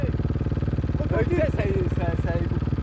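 A rally motorcycle with a failed head gasket idles with a steady, rapid low putter throughout while a voice speaks briefly over it.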